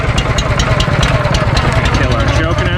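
Barreto 920LSH log splitter's small gas engine running steadily on a cold day after a pull start, a loud, continuous rumble with rapid pulsing, and a voice talking over it.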